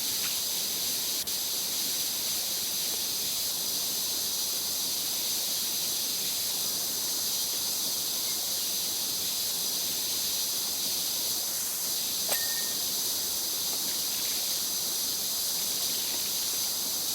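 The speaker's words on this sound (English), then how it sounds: "I have the second to best power washer in the game" A video game power washer with a wide nozzle sprays a steady, unbroken hiss of pressurized water, loud and close, with no break across the whole stretch.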